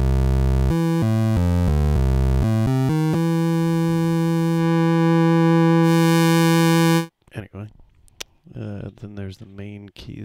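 A Siel MK-610 keyboard synthesizer, modified and circuit-bent, plays a loud sustained bass tone with stepped notes that is then filtered, followed by someone talking after the sound stops.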